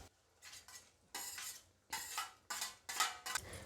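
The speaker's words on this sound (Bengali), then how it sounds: "এখন আমি মাছগুলো দিয়ে দেবো।" Prawns go into a simmering coconut milk curry for chingri malaikari, with a run of scraping, clinking spoon-and-pan stirring strokes in irregular bursts over a soft bubbling bed, close and fairly loud, with no voices.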